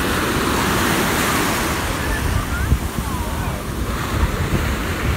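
Strong sea waves roll onto a Miami beach in Florida, a steady loud wash of surf with wind buffeting the microphone and a few soft swells.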